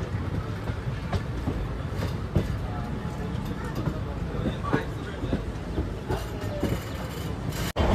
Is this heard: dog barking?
no